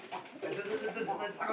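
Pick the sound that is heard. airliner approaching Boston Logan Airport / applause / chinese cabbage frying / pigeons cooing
pigeons cooing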